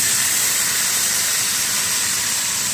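A loud steady hiss of steam rises as a splash of water hits a hot frying pan holding garlic ginger paste, a continuous bright rush with no voices.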